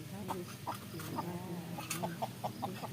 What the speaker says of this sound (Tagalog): Ito yung aking mga Chinese chicken.